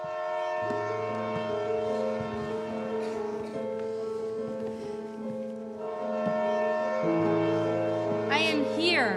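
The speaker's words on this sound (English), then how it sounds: "I am here on a train meant for cattle." Train noise evoking a cattle train bound for Auschwitz: steady layered horn-like tones held under a rumbling rolling bed, swelling and shifting partway through, with a rising whistle-like sweep near the end.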